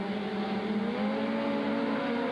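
Race cars lapping a speedway oval at Southern Oregon Speedway, led by the 16 car, give a steady, sustained engine drone with rising revving harmonics, fairly close and continuous, with no talk over it.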